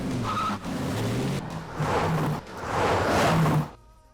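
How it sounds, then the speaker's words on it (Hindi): A car in a film action scene pulls away hard, its tires screeching and skidding in sustained loud squeals over a roaring engine, then cutting off abruptly. "गाड़ी निकालो रे।"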